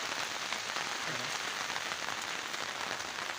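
Heavy rain pours steadily on surfaces, a dense, loud, continuous hiss of drops with no break and no voices.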